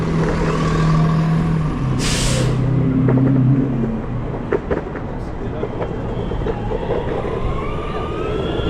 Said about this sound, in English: I gotta run from the bus.